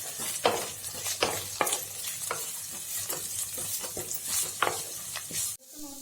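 Mixed vegetables (peas, capsicum, cauliflower, carrot) fry in a kadai for fried rice, a steady sizzle under repeated scraping strokes of a spatula, close and fairly loud, ending abruptly.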